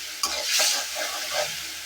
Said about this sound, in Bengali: মশলাটা কষানো হয়ে গেছে প্রায়।